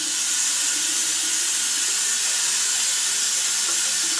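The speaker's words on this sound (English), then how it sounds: "I like to run my water really, really hot." Very hot water running from a tap into a sink, a steady, even hiss of flow that continues unchanged throughout with no pauses.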